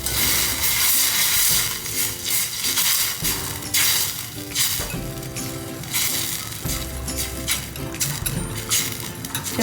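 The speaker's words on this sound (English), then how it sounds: "we're just going to mix it with a whisk." A whisk beats sauce ingredients, honey among them, in a saucepan, making rapid rhythmic metallic tapping and scraping against the pan in repeated bursts, close and fairly loud.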